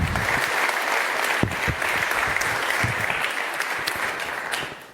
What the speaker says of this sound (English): So please give them a massive round of applause.